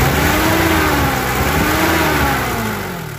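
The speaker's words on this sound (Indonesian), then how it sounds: "Coba kita geber ya" A diesel engine in a 1994 Daihatsu Taft GT 4x4 revs up with rising and falling pitch sweeps, a throaty mid-range roar that eases off at the end.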